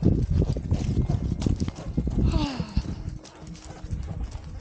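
Hooves clip-clopping on the ground at a walking pace, close by, with rustling and a voice faintly mixed in among the irregular thuds.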